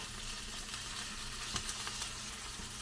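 Wagyu beef frying in a pan with a little oil, a dense steady sizzle close by, with a few faint crackles and pops and no talk.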